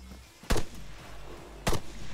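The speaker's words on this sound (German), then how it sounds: "Kommen einfach plötzlich Schüsse." Two loud, sharp gunshots crack about a second apart in an Altis Life Arma roleplay game, hitting a rebel base, with a low background hum between them.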